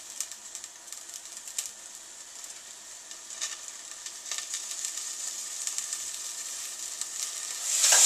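Peas cook down in a pan with a continuous soft sizzle and crackle, occasional stirring taps, and the frying growing a little louder toward the end.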